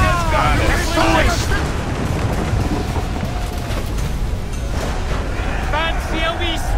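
Ship cannons booming and explosions roaring in a pirate naval battle in Assassin's Creed IV Black Flag, a loud continuous rumble with shouting voices over it.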